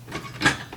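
Replacement connector on a Nintendo NES console snapping into place during a repair, a short close scraping click with a brief plastic crunch in the middle, fairly quiet and alone.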